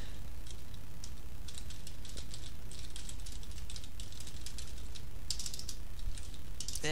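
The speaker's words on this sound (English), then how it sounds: "So bad at typing." Fingers typing on a computer keyboard during a StarCraft gaming session, with bursts of quick, close clicking keystrokes that come and go across the clip with no talking.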